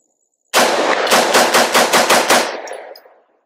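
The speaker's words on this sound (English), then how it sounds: "I haven't shot any rounds with this, so let's see how well it shoots flat" AR rifle fitted with a Fortis RED Brake 5.56 muzzle brake firing a fast string of about eight loud, sharp shots at close range, each blast running into the next, followed by a short decaying echo.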